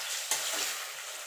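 Taro leaf greens (kochu shak) being stirred in a frying pan, a steady close sizzle with a soft scrape of the spatula partway through.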